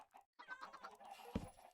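Chickens clucking in Minecraft, a short burst of a few soft clucks and squawks, faint and close, alone without talk.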